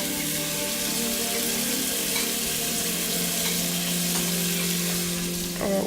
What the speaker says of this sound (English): I'll start braising the onion in some butter